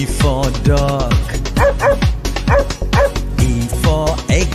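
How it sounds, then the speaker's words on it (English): A dog barks and yips in quick repeated bursts, loud and close, with whimper-like rising calls mixed in, all across the clip and with no talk over it. "Dog."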